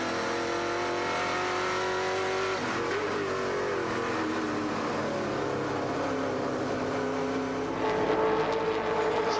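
NZV8 V8 race cars roar around Ruapuna circuit, engines loud and continuous with shifting pitch as cars pass and accelerate, a dense, unbroken mechanical drone that swells slightly near the end.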